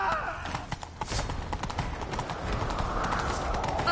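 Horse hooves clatter rapidly in a galloping rhythm in a video game, loud and close, with game voices speaking over them.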